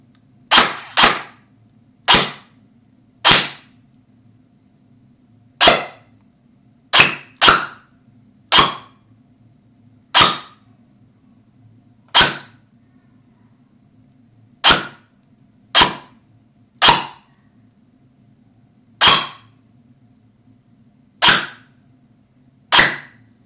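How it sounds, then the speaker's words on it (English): An LDT MP7 gel blaster fires single shots through a chronograph, each a sharp, loud crack. About eighteen shots come at irregular intervals, some in quick pairs, over a low steady hum. "I haven't primed it yet, so take a few shots."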